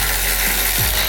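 A ratchet backs out a brake caliper bolt on a wrecked Miata during a suspension teardown: a loud, close burst of rapid pawl clicks.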